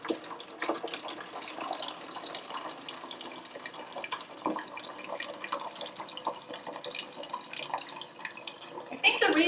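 Fresh peppermint tea is poured through a funnel into a bottle, a close, steady trickle and splash of liquid that gurgles briefly louder near the end, with a person speaking over it.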